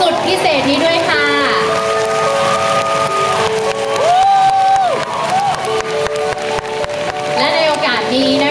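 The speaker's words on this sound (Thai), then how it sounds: "ขอเสียงปรบมือแรงๆอีกครั้งหนึ่งนะคะให้กับโชว์สุดพิเศษนี้ด้วยค่ะ" After a glamorous salon fashion show, the audience sends up a loud, continuous wash of clapping and cheering with occasional whoops, while amplified voices and music carry over the crowd.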